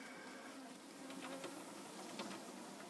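Honey bees swarm busily around a top bar beehive full of capped honey and brood, giving a steady, diffuse hum with a few brief buzzy fly-bys close to the ear.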